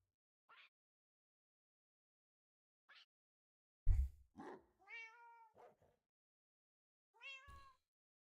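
Cats meow in a Minecraft cat farm inside the video game. Several separate mewing calls come close and clear, two faint ones first, then a louder cluster and one last meow, with no talk.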